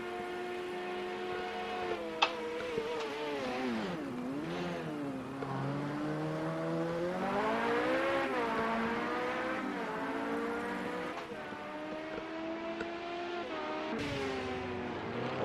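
LMP900 prototype race cars roar and rev in the racing game Project Cars 2 at the Hockenheim GP circuit, engine pitch climbing and dropping through gear changes as cars pass, steady and fairly loud with no talking.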